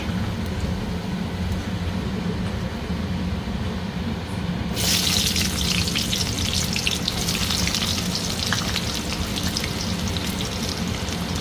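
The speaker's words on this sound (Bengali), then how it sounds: "তেলে জিরে দিয়ে দেবো। তেল গরম হয়ে গেছে।" Cumin seeds crackle and sizzle in hot oil for a methi besan dish, a steady low frying hiss that turns sharply brighter and louder about halfway through, then holds alone with no talk.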